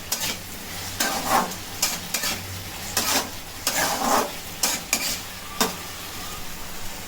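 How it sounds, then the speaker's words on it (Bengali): Mutton pieces stir-fried with salt and sugar in a pan for a Bengali mutton curry, with repeated scraping stirs over a steady low sizzle, fairly close, no talking. "একটু করে কষিয়ে নেওয়া হচ্ছে"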